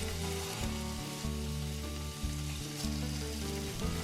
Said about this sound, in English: We'll start with frying the paneer.